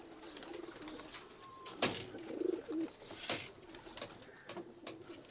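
Pigeons in a loft cooing in soft, low, intermittent calls, with a few sharp clicks and brief rustles against a quiet background.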